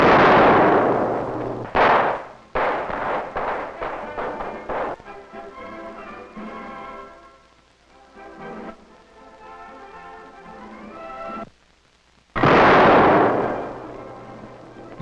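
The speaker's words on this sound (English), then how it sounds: "the gun fires canister at the incredible distance of only 200 yards" A Civil War cannon firing canister shot at a demonstration, with a loud booming blast at the start and another near the end, separated by crackling, rumbling reverberation and a quieter stretch between.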